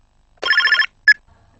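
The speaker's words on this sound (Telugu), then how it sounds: "అదే ఫోన్ అయి ఉంటుంది. అమ్మా మీరాగండి, నేను లిఫ్ట్ చేస్తాను." A telephone rings indoors with one short electronic ringtone burst followed by a brief second chirp, close and clear, with no speech.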